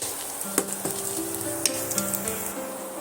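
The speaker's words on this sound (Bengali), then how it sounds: "এইগুলো আমি তেলের মধ্যে দিয়ে দেব পেঁয়াজের মধ্যে লঙ্কাটাও দিয়ে দেব" Onions and green chillies sizzle steadily in hot oil, a close, continuous frying hiss with a few brief clinks and stirring sounds, no talking.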